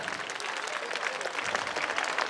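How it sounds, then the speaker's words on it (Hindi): Audience applause at a Navodaya Vidyalaya alumni meet, a steady dense wash of many hands clapping throughout, close and full. "तालियां हो जाए।"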